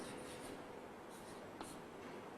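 Pen or chalk writing by hand during a biology lesson, a soft continuous scratching that runs steadily throughout at close range, with no clear talk over it.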